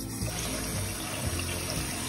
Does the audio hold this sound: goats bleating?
no